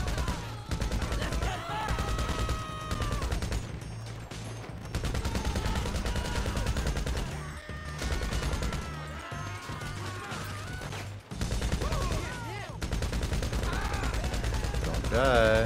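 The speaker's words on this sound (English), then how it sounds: "Combat MG." A Combat MG machine gun firing in the video game GTA V, long continuous bursts of loud rapid fire with crashes and impacts, broken by short pauses, while players talk over it.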